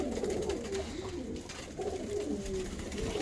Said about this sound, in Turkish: Bak bu Volski de çok çok güzel muazzam bir Volski arkadaşlar.